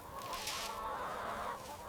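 Bresse chickens cluck softly while feeding on corn and wheat scattered across grass at a French farm, a continuous low murmur of overlapping flock sounds with steady background noise.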